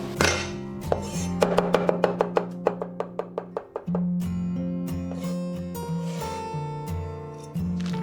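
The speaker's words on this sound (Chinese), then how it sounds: "大蒜跟生姜我们全部拍碎切末" Smashed garlic and ginger minced with a knife on a board: a fast, even run of crisp chopping taps, then steadier, denser cutting over a constant kitchen hum.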